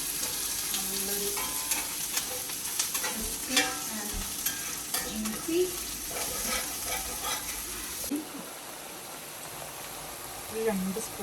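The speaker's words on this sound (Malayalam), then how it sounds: "എല്ലാം കൂടി കൂട്ടി നമ്മൾ നന്നായിട്ട് വഴറ്റി" Ingredients sautéing in a pan keep up a dense, steady sizzle with occasional stirring scrapes, close by, while a voice talks intermittently over the cooking.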